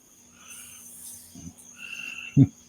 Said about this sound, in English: I hear those frogs. You hear the frog?